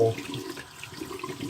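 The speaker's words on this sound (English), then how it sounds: "I'm gonna rinse my razor." A razor is rinsed under a running tap during a shave, giving a short, steady splash of water into a sink with a brief clink at the start.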